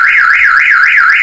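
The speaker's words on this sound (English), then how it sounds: "That alarm blow now." An electric fence alarm blares a loud, rapidly warbling siren tone that rises and falls in a steady cycle, close and continuous with no talk.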